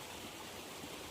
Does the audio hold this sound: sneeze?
no